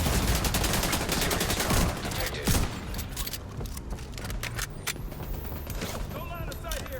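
Rapid gunfire in The Division 2 during a Manhunt Scout mission, dense cracking bursts in the first two seconds, then scattered sharp single shots and mechanical clicks over a steady game background.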